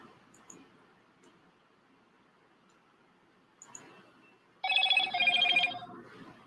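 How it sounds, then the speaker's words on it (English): A notification chime sounds on a phone, a short bright electronic tone pattern lasting under a second, rising clearly over a quiet room with faint clicks beforehand. "I just got a notification that said that we're going live on my other device."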